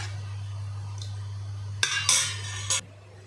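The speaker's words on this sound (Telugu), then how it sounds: "పెరుగులో ఎక్కడ ఉండలు లేకుండా బాగా కలిపేసేయాలండి" Curd with salt being whisked for a kabab chutney, a brief run of metallic clinks and scrapes against the bowl after a quiet stretch, close by with a low steady hum underneath.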